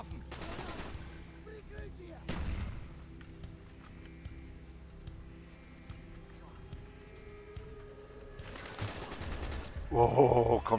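Gunfire in the video game Call of Duty Black Ops: rattling automatic bursts erupt at a few moments, loudest near the end, with quieter game ambience and faint voices between them.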